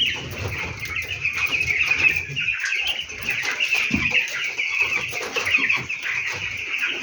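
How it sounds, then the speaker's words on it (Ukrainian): Broiler chickens fourteen days old cluck and peep steadily at close range while feeding, a dense continuous chatter of many birds with no voices over it. "Снідає наша курочка"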